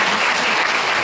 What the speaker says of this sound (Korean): 다시 한번 박수로 환영해 주시겠습니다.